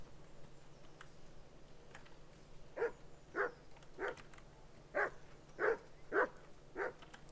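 A dog in the video game Kingdom Come: Deliverance 2 barks about seven times in a loose, even rhythm. The barks sound fairly faint and distant, with no talk over them.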